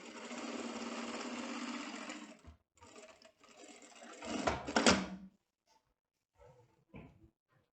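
Sewing machine stitching a seam on a vest with a buckle, a close steady whirring run for about two seconds, then shorter bursts and a final fast spurt before quiet, with a few faint clicks.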